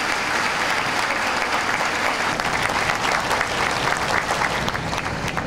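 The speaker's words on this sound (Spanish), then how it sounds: "pido un fuerte aplauso para el señor presidente" Loud, sustained applause fills a hall at the opening of a primary care and diagnostic centre in Higüey as the audience greets the president, a steady dense roar of clapping with no voices.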